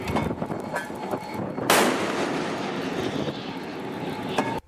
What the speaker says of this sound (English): U.S. forces open fire on the Iranian ship Touska.